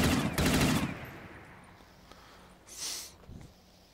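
An AK-12 rifle fires in Black Ops 3 Zombies on the Swallow's Nest castle map, a short loud rapid burst at the start, then quieter game ambience and a later whooshing effect.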